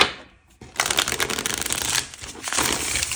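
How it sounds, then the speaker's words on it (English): A deck of tarot cards is shuffled at close range, a brief pause followed by sustained bursts of riffling and slapping cards, with no voices over it. "I feel like I'm shuffling this deck upside down."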